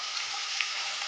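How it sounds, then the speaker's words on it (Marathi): Chicken lollipop pieces coated in flour and cornflour fry in very hot oil, a steady dense bubbling sizzle up close. "इथे तेल पण आपलं व्यवस्थित कडकडीत तापलंय बघा. आपण एक पीस याच्यामध्ये"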